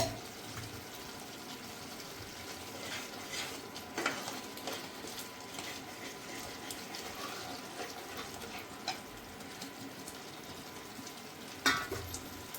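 Soaked chickpeas tipped into onion masala frying in oil, a steady close sizzle with stirring scrapes and clatters, louder bursts near the start and end, no talk.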